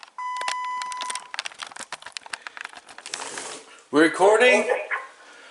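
A short electronic tone from a Panasonic KX-TG5243 digital answering system sounds early on, followed by crinkly clicks, then a distorted voice speaks.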